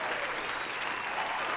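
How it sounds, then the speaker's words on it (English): Brief burst of dense applause from a crowd, steady and moderately loud throughout the short stretch. "With the applause, fan."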